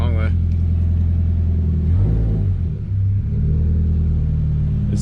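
Scion FR-S sports car engine rumbling steadily at close range during a first drive, with a brief dip in revs midway as the clutch goes in; people talk over the engine.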